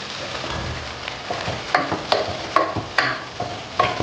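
Tomato pieces fry in a pan for temple-style katte pongali, a soft continuous sizzle broken by several sharp scraping knocks of a spoon against the pan, close and with no talk.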